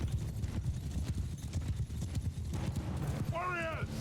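Hooves clip-clop steadily from a group of cavalry horses on a battlefield in Mount & Blade II: Bannerlord, mixed with battle din, and a brief horse whinny rises near the end.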